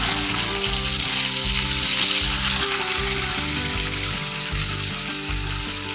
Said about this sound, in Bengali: পেঁয়াজগুলো একটু ভাজা হোক, তারপর টমেটো দেবো।